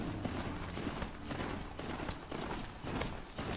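A horse trots steadily in Horizon Zero Dawn, its rhythmic clip-clop hoofbeats running continuously over a dense, noisy game soundscape.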